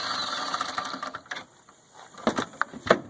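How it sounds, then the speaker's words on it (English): A cordless impact wrench driving a 13 mm socket on a long extension against the master cylinder nut of a Ford F250 dually, heard as close, loud rattling hammer bursts separated by short pauses. "13 millimeter socket on the master cylinder, long extension, my cordless impact"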